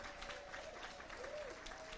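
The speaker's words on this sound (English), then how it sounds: "Let's give Aquanetta, better known as Q, a round of applause." Audience applause at a city women's event in Rialto, a steady wash of clapping at moderate distance with a faint sustained tone running under it.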